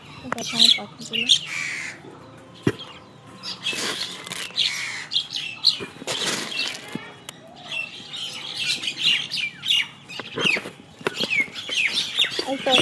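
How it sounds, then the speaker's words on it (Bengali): Pet birds kept at home squawk and chirp loudly and repeatedly at close range, with a person talking in between the calls. "আমার পাখিগুলো"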